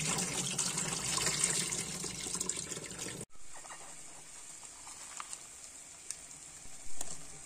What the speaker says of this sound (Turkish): Doğramış olduğumuz pırasalarımızı iyice yıkıyoruz.